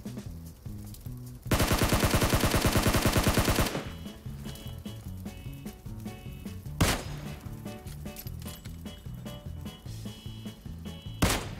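Gunfire in the mobile battle-royale game PUBG Mobile: a loud, sustained automatic burst lasting about two seconds, followed by a few sharp single shots over steady game music.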